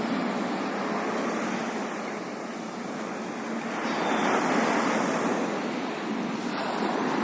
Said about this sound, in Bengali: সমুদ্রের আওয়াজ।